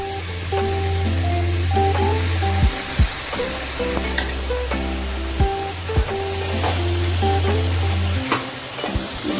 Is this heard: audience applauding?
no